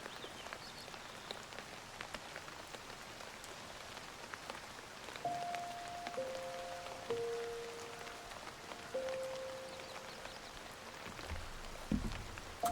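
Steady rain patters softly and continuously in the video game Fae Farm, with a few faint tonal chimes from the game sounding over it.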